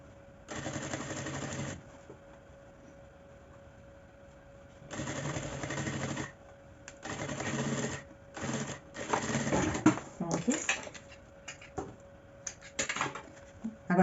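Sewing machine backstitching the start of a seam on a small baguette bag, stitching over lining, fabric back and zipper; several bursts of steady mechanical whirring separated by pauses, then shorter stop-start runs near the end, close and clear.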